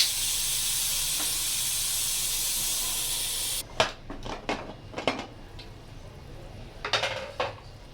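Steam hisses loudly and continuously from a pressure cooker cooking daal mash once its weight is lifted off, then cuts out abruptly and gives way to several sharp metallic clanks and clatters of the pot and lid.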